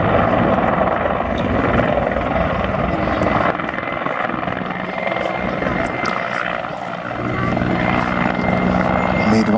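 A Mi-24 military helicopter at an air show roars overhead, its engine and rotor noise loud and continuous throughout, dipping slightly midway before swelling again.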